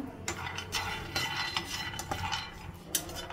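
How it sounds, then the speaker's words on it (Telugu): Peanuts dry roasting in a pan are stirred continuously, making a close scraping, rattling shuffle with occasional clinks of the spatula against the metal, and no one talks. "సో డ్రై రోస్ట్లో ఫస్ట్ అయితే పల్లీలు వేసుకుంటున్నాము."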